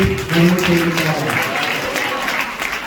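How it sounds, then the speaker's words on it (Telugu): A crowd claps together in a short, steady burst of applause at a church service, with a voice speaking over the clapping. "చప్పట్లు కొట్టి దేవుడికి"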